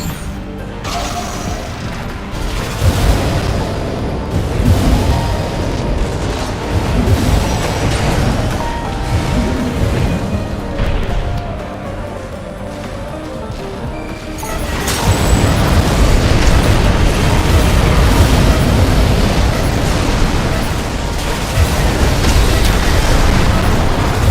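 Explosions and mechanical combat in the video game Armored Core 6 during online arena fights, a continuous roar of booms and crashes that surges louder halfway through, dense and close.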